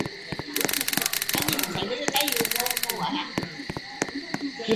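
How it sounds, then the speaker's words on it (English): Gunfire in the Roblox police game comes in two rapid bursts of sharp cracks, with scattered single shots and steady game background noise around them. "I just heard multiple gunshots in my neighborhood."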